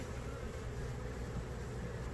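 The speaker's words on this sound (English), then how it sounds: "They're bees." Honeybees at an open hive during an inspection give a steady, dense buzzing hum that holds evenly throughout, close and fairly loud with no talking.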